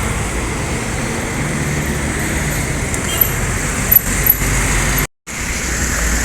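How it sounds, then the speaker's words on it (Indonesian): A Sembodo bus drives past on the Sumatra highway, a loud, continuous roadway roar that holds steady, with a brief dropout near the end. "Kedatangan yang pertama ini disusul Sembodo Seat Kombi SE 914 menuju Jabodetabek"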